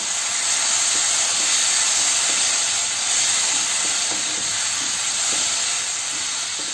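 Water poured into a hot pan of spice masala for banana kofta curry sets off a steady, loud hiss and sizzle that continues without a break and without any talk.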